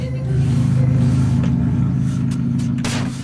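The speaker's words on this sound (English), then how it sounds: "Of course a loud car had to go by as soon as that." A loud car drives past with a steady, heavy low engine rumble that swells near the start and then slowly fades. No one talks over it.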